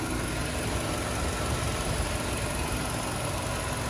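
A 2012 Hyundai Avante with a 1.6 DOHC 16-valve engine idles in a smooth, continuous low hum with faint vibration, steady and close throughout, with no talking.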